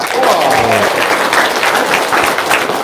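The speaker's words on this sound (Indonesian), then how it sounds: "Tepuk iya. tangan dong." Loud, dense applause from a crowd at an evening Indonesian stage event fills the whole stretch as one continuous, even roar of clapping hands.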